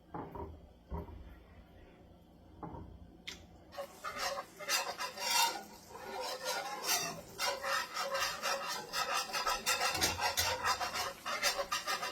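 A metal whisk stirs a cream cheese sauce in a pan, giving a steady run of scraping, rasping strokes that starts faintly and grows busier and louder, with no talk over it.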